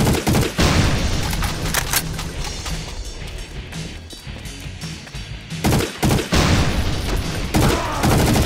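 Loud, dense bursts of rapid gunfire from a weapon in the Doom mod Project Brutality, with sustained automatic volleys and heavy booms filling the scene.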